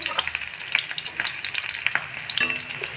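Chopped onion pieces fry in a hot pan with cumin seeds for a paneer dish, a steady close sizzle with small pops and crackles throughout, no talking.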